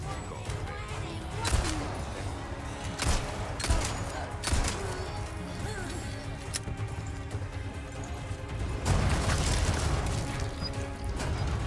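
Repeated cannon blasts and gunfire from the Resident Evil 4 video game sound through a dense, noisy mix, with several sharp booms spaced across the stretch and a heavier burst near the end.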